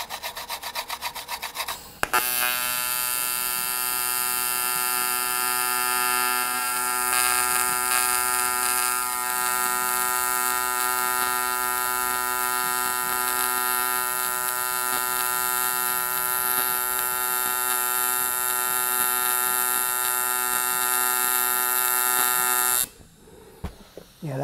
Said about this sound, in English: When the fan actually comes on.